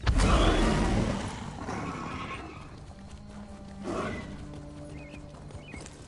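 A horse in The Elder Scrolls Online gives a loud whinny up close at the start, followed by snorts and fainter hoof and ambient sounds, with no talking.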